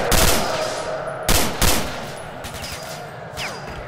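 Gunfire in the video game STALKER: Shadow of Chernobyl: a loud burst of shots opens, then two more sharp volleys follow close together, each ringing off into a fading echo.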